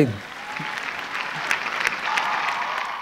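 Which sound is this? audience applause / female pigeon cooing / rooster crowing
audience applause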